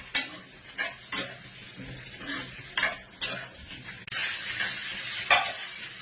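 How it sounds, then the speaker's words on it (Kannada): Bitter gourd frying in oil in a pan sizzles under a string of distinct stirring scrapes and clinks of a spoon against metal, close and moderately loud, with no talking. "ಈ ಹಾಗಲಕಾಯಿ ಎಲ್ಲ ಸ್ವಲ್ಪ ಈ ಎಣ್ಣೆ ಫ್ರೈ ಮಾಡ್ಕೋಬೇಕು"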